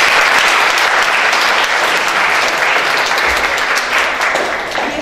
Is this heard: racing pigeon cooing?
no